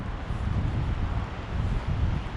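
Strong wind buffets the microphone on the deck of a sailboat, a steady, close, low roar that swells and eases slightly throughout with no other sounds on top.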